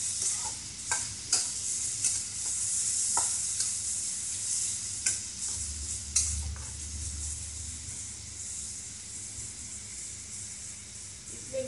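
Chopped garlic and ginger sizzle and fry in a pan, a steady close hiss running throughout, broken by sharp scraping clicks of a spoon stirring at intervals, with no voices.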